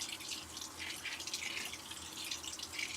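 A washing machine runs a rinse cycle at close range, with water trickling, spraying and dripping softly and continuously, alongside a low background hum.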